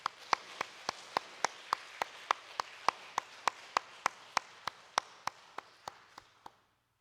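A church congregation claps in encouragement during a Sunday morning worship service, with about twenty sharp claps in a steady, even rhythm that carry on for several seconds before stopping.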